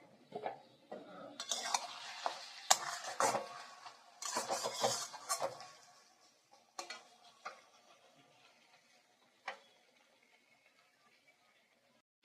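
Snake gourd (chichinga) curry being stirred in a pan, with a spoon scraping and clinking against the metal in bursts during the first half, then a few sparse, isolated taps near the end.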